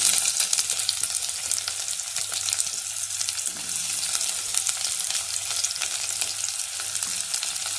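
Sliced big onions fry with cloves in hot oil in a pan, giving a steady close sizzle with crackling and occasional stirring noises throughout.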